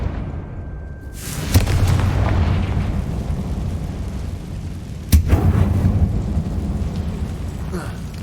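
Confringo blasting spell explosions in Hogwarts Legacy, two loud booming blasts with long rumbling tails, a sharp crack before each, heard alone.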